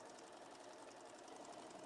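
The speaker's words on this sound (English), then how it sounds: "I bought the sewing machine this year." A sewing machine stitching a long length of fabric, a fast even mechanical chatter with rapid regular pulses, close and steady, without talk.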